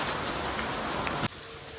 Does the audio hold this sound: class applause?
no